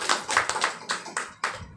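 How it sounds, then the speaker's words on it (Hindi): A small audience at a motivational talk claps in a few sharp, uneven bursts, about seven distinct claps close by that trail off, with no voices over them. "ताली बजाएं"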